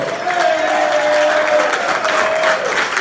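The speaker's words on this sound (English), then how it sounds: "How about one more round of applause for Nathan and Sarah" Wedding guests give a warm round of applause for the newly married couple, a dense steady wash of clapping at close range, with a faint sustained tone running beneath.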